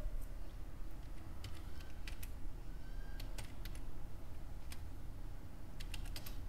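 Rapid clicks of a computer mouse right-clicking to make a new folder, several quick bursts of light taps close by over a steady low background hum, with no talking.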